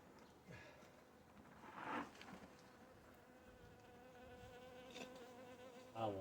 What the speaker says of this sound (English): Oh, there was a bee inside there.